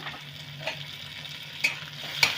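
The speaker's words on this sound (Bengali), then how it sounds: "এবারে একটু নেড়ে নেব" Garlic, ginger and chopped green chilli fry softly in a pan while being stirred, a faint steady sizzle with three light scraping strokes of the spoon against the pan.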